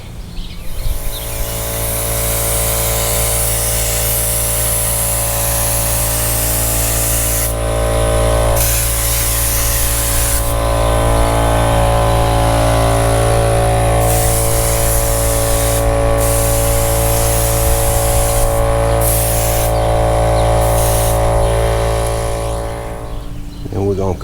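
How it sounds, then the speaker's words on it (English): A loud, continuous hiss of spray adhesive from an aerosol can onto car headliner fabric runs almost nonstop, with a few brief pauses between bursts. "Then I'll spray the backside"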